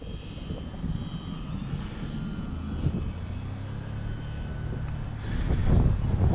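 Remote-controlled V-22 Osprey model aircraft with flaps fully down, flying slowly overhead; a steady motor drone holds throughout, swelling louder toward the end, with no talk.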